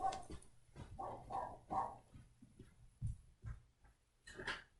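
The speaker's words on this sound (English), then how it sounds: "my dogs are attacking people in the yard" Dogs bark in a yard in scattered, fairly faint yaps and barks spread across the stretch, with some distance to them.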